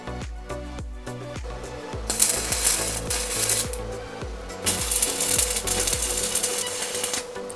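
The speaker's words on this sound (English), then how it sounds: "I screw on the nut one by one and weld the bolts to the disc." Nuts being screwed one by one onto steel bolts for a homemade gravity engine, giving a steady, rhythmic run of close metallic ratcheting clicks with no talking.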